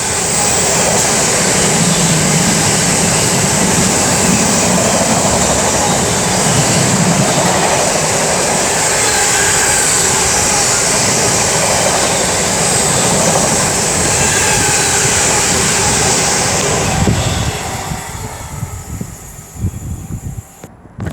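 Avanti West Coast trains, a Chester to London Euston service on the West Coast Main Line, roar through Tamworth at speed with loud rushing wheel noise and rail hiss, the sound cutting off sharply as the train clears, leaving quieter station ambience.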